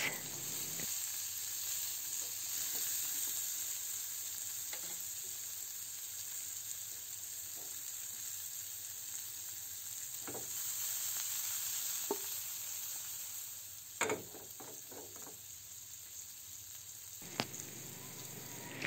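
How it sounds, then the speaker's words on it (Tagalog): Pork belly and kangkong cooking in a pan with sliced tomatoes, a continuous close sizzle with occasional sharp stirring clacks and scrapes breaking through near the end. "Lutuin lang natin yan at kapag medyo luto na, maglagay na tayo ng hiniwang kamatis."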